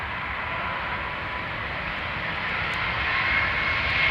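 Boeing 777 airliner on the runway at London Heathrow Airport, a steady, broad jet engine roar that holds throughout and swells slightly toward the end, heard from a distance with no voices.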